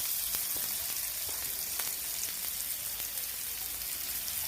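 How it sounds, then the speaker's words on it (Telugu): Finely chopped onions fry in hot oil, an even, fairly quiet crackling sizzle with faint occasional pops and no speech. "ఆనియన్స్ కొంచెం ఫ్రై అవుతూ"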